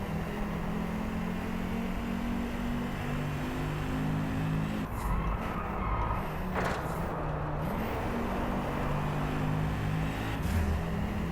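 A racing car in the DRIVECLUB video game drifting through a corner, its engine holding a steady, loud, buzzing drone for the whole stretch with small shifts in pitch partway through. No one speaks.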